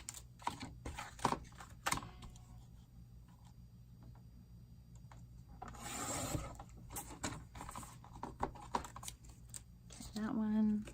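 Scissors snipping a paper junk journal embellishment: sharp, close cuts in irregular clusters, a burst of paper rustling midway, and a brief murmured voice at the end.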